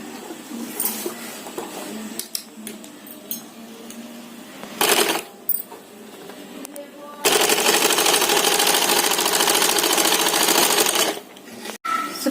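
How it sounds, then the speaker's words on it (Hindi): A sewing machine stitches down the folded hem of a saree lining fabric, with a long steady mechanical whir. Shorter bursts and softer handling sounds come before it. "ये लाइनिंग की हमने मोड़ कर सिलाई कर ली है।"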